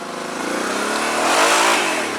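A quad bike engine revs hard while climbing a hill, its loud droning note rising and swelling toward a peak before easing slightly, with a steady accelerating growl throughout and no talking.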